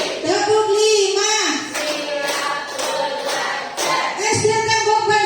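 Teachers and staff perform a rhythmic group clapping cheer, fast clapping bursts interleaved with loud chanted voices in unison, all close and energetic.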